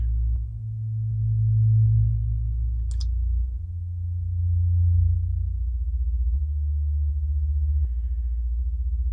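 A Kinotone Ribbons effects pedal plays a tape-like loop slowed until it runs backward, giving low, droning, wobbling tones that swell and sag in pitch, with a brief high chirp partway through and no voices.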